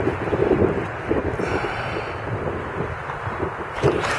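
Wind buffets an outdoor crossbow range in loud, gusty rushes across the microphone, continuous and rumbling, with no one speaking.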